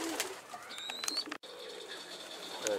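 Pigeons stirred up inside Ali Bey's coop, soft cooing and chirps with a brief flutter of wings, close and fairly quiet, with no talk.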